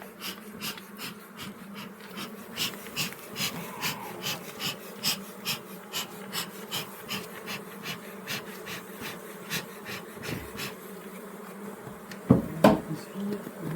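Wild honeybee swarm being recovered at Fontenailles, a dense continuous buzzing close by with rhythmic soft pulsing throughout and a couple of sharper knocks near the end.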